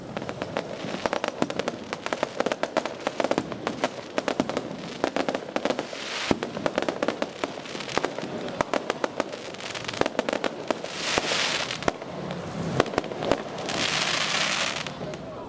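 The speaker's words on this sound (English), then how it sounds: "people were setting off fireworks right outside their shops and homes on the street" Fireworks and firecrackers go off on a street outside shops and homes, rapid sharp cracks and pops in dense irregular bursts with some louder bangs and hissing crackle, continuing throughout.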